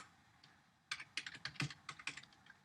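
Clicky keystrokes on a computer keyboard while code is entered into a Spring XML configuration file, starting after a quiet first second and continuing in an irregular run of close, moderately soft taps with no talk.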